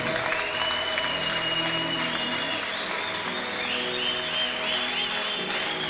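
A church congregation applauds steadily throughout, a broad wash of clapping with a few sustained tones and faint voices mixed in.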